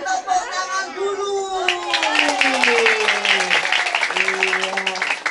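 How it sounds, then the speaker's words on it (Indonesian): Young children clap for a clown performer at a neighborhood show. Lively, fairly close clapping builds up and carries on through the clip, mixed with children's chatter and raised voices. "Kita kasih tepuk tangan dulu."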